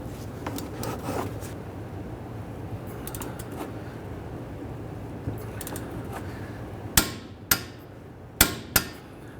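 Metal-on-metal clinks and taps while tightening the hub assembly bolts on a 2010-2019 Ford Taurus. Several sharp, close strikes come near the end over quiet shop background.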